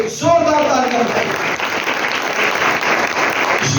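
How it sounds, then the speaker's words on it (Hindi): A church congregation applauds loudly and steadily, a dense wash of clapping that starts abruptly and carries on throughout, with a brief voice rising above it at the very start. "आया मिलकर खुदा बाप बेटा रूह कुदस के लिए जोरदार तालियां बजाएं।"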